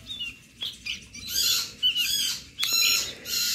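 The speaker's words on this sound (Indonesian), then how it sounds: "8 ekor kutilang." Several small birds, sooty-headed bulbuls in a box, give bright, sharp chirps and squeaky calls in irregular bursts, close and fairly clear, with faint rustling between calls.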